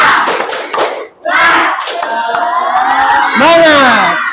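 Schoolchildren stand and perform a rhythmic clapping cheer together in a classroom, loud and close, hand claps mixed with their shouted chant and a teacher's voice leading.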